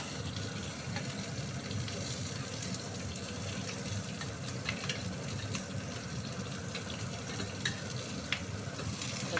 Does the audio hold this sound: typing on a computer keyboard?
no